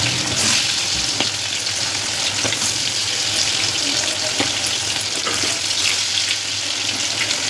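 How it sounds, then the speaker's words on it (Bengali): Chicken pieces fry in hot oil with a loud, dense, continuous sizzle that holds steady from start to finish, close up and with no voices. "তারপরে আবার নেক্সট চিকেনগুলো এইভাবে ভাজতে থাকবো।"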